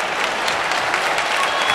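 A live audience at a FIFA Online 3 esports championship final claps steadily in sustained, dense applause filling the whole stretch, loud and close with no pauses.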